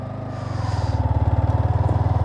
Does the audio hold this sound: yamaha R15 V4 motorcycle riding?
yes